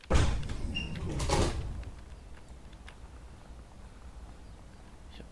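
A train door in Train Sim World 3, on a passenger ride in an n-Wagen coach between Bremen and Oldenburg, slides with two close mechanical thumps in the first moment and a second push, then a low steady hum from the carriage.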